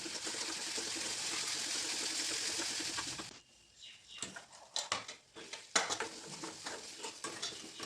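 Ground masala paste sautéed in oil in a pan for cabbage bhaji, a dense sizzle that fades into quieter frying with scraping and stirring clinks of a spoon against the pan.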